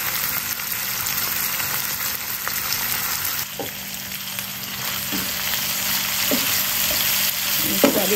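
Empit fruit, the Sarawak almond, cooks in a pan with an even, loud frying hiss throughout, broken by a few soft scrapes and knocks of a utensil stirring near the end.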